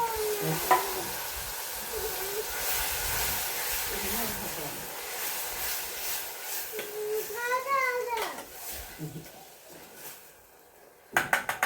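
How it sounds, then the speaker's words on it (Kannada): Green chilli paste frying in a pan with garlic and curry leaves gives a steady sizzle and hiss as it is stirred. Children's voices and adult talk sound over it, and sharp clattering bursts come near the end. "ಬೆಳ್ಳುಳ್ಳಿ ಕರಿಬೇವು ಫ್ರೈ ಆದ್ಮೇಲೆ ಇದಕ್ಕೆ ಈಗ ಹಸಿ ಮೆಣಸಿನ್ಕಾಯಿ ಖಾರ ರೀ"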